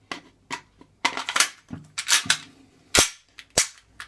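A WE G17 airsoft gas blowback pistol fires until its magazine runs empty, a string of sharp, close snapping shots at an uneven pace, roughly a dozen reports with short pauses between them.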